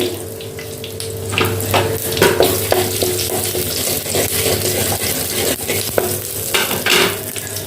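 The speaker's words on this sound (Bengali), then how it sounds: "এবার একে একে আমি ফোড়নটা দিয়ে দিচ্ছি। দারচিনি, এলাচ, গোটা জিরে," Whole cinnamon, cardamom and cumin hit hot oil with a loud, hissing sizzle and crackle, joined by stirring clinks and scrapes, close and continuous, with no speech.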